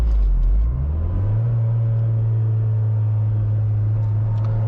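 A car's engine roars loud and steady as it accelerates hard in third gear with the wheels spinning, the pitch climbing briefly and then holding a constant drone on a mountain road.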